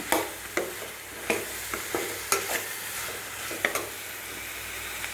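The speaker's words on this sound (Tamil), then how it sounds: "இதை நல்லா கலரி விட்டுக்கலாம் பச்சை வாசம் போகிற வரைக்கும்." Masala for egg gravy stirred and fried in a pan, a constant sizzle cut by rhythmic spatula strokes against the metal roughly every half second, close and clear.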